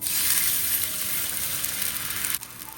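Green chillies and asafoetida sizzle in hot oil while being stirred, a loud, close, bright crackling hiss that drops off suddenly near the end.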